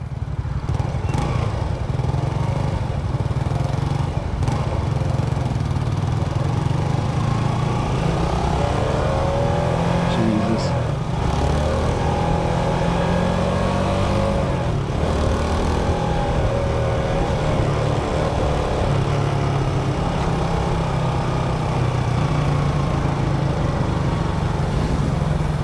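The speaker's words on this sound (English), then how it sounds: "This is what you want when you ride a motorcycle." A 1987 Yamaha SRX250 motorcycle being ridden, its engine droning steadily and loudly with wind noise throughout, no speech.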